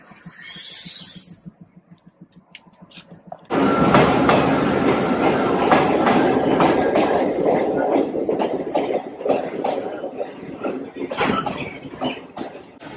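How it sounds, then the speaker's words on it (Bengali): A train rumbles loudly through a station with rattling wheels, clacking and a high metallic squeal, after a brief quieter stretch at the start. "এখন ট্রেন দাঁড়িয়ে আছে।"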